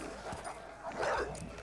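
Several dogs bark and yelp fairly faintly in a dramatic film scene where a man is mauled, giving a short burst of agitated canine noise.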